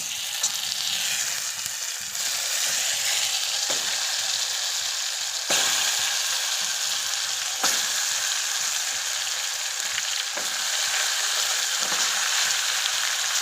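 Brinjals shallow frying in a pan give a steady, loud sizzle with occasional crackles and stirring clicks, continuous and close.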